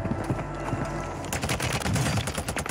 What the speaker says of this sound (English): My God, this thing's shooting missiles right now